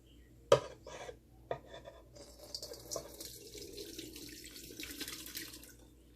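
Homemade rose water is poured into a bottle, a few sharp clinks of glass first, then a thin splashing trickle of liquid running steadily for several seconds, close and fairly quiet.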